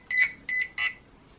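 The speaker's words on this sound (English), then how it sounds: "you can hear that beeping there, which is actually coming through the motor" A Hobbywing Quicrun 10BL120 RC electronic speed controller in calibration mode sounds three short, evenly spaced electronic beeps through its brushless motor. Each tone is clear and moderately loud, heard close up in a quiet room.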